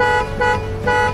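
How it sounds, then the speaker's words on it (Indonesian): A vehicle horn gives three short, loud honks in quick even succession as a signal, sounding close by with no talking. "Tanda klakson wajib dibunyikan."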